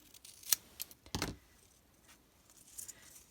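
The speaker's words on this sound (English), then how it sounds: "I have to trim off one of the pieces here" Scissors trimming a piece of paper cardstock for a handmade card give a couple of quick, close snips, the second slightly longer, with faint rustles and small handling clicks around them.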